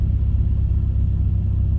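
Low, steady engine rumble from an idling car as the power steering assist engages and the RPM rises slightly, heard close and continuous with no voices over it.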